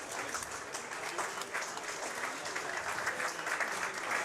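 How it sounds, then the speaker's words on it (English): Applause at the Aussie Millions poker championship final table, a sustained patter of many hands clapping, moderately distant and steady, with faint voices mixed in. "you can hear the applause in the background"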